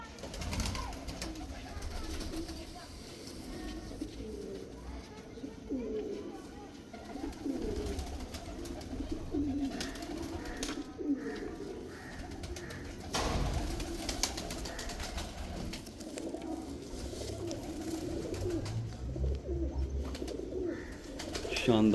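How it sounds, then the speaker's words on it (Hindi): Old Salara pigeons, a fancy rain-type breed, coo in soft, low, continuous murmurs close by, with faint background noise and occasional voices mixed in. "मेन बड़ा पुराना कबूतर है सलारों में से"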